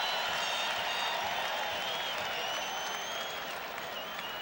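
A large baseball crowd at a 1986 World Series game between the Mets and their opponent roars and applauds in a steady, dense wash of cheering that holds loud and continuous throughout.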